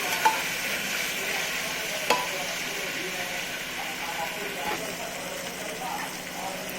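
Onion, tomato and masala frying in a pan for masale bhaat, with a steady sizzle, soft stirring scrapes and a couple of sharp utensil knocks.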